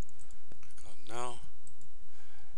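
Sharp, close computer mouse clicks in a spreadsheet session, a few quick taps standing out against steady background hiss with no talking.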